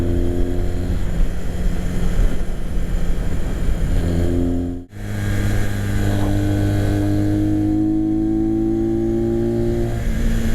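A vintage motorcycle engine drones steadily while being ridden, loud and close, with a brief gear-change dip midway before the revs climb again in a rising tone.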